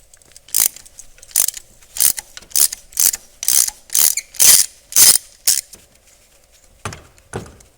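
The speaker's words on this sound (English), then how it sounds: "And I also have a 10-inch extension here. This 3/8 drive. So go ahead and loosen these and remove them." A 3/8 drive ratchet with a 10-inch extension loosening spark plugs on a 2016 Mitsubishi Outlander Sport 2.4L engine: a series of about a dozen sharp, close clicking pawl strokes in an uneven rhythm, with no talk.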